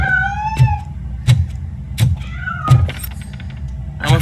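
A cat meows in the video game RoboCop: Rogue City, with a few clear, close meows, one near the start and another past the midpoint, alongside regular soft thuds and clicks and no talking.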